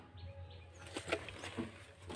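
Pigeons flapping their wings inside an aviary, a few soft bursts of wingbeats close by over a low background hum.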